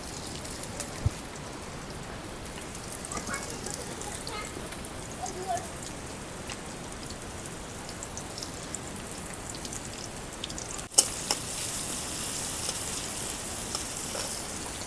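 Chopped onion frying in a pan with a faint, even crackling hiss that swells noticeably louder after a sharp clatter near the end.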